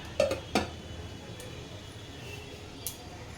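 A lid set down over a pan of fish in oil gives two quick metallic clanks near the start, followed by quiet kitchen ambience and one faint later tap.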